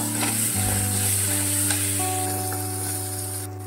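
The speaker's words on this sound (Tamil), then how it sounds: "இப்ப தாளிக்கிறதுக்கு 1 ஸ்பூன் இஞ்சி பூண்டு சேர்த்துக்குவோம்" Steady, close sizzling of ginger-garlic paste frying in hot oil for mutton bone dalcha, with a brief stirring clatter near the start.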